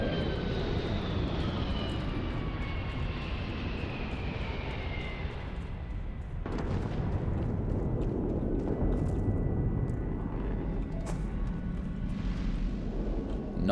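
Spaceship descending to land in the video game Starfield, a loud continuous engine roar with a low rumbling thrust that swells after a brief dip midway, steady and close.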